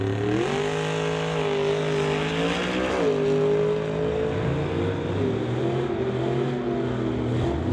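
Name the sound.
drag race: Chevy pickup versus 1955 Chevy Bel Air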